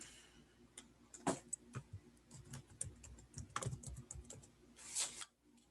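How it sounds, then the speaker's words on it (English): Keys tapping on a computer keyboard as a greeting is entered in sewing and embroidery software, a quiet irregular run of clicks in short bursts with pauses, close and alone with no talk. "I could go into the letter tab and type in a greeting."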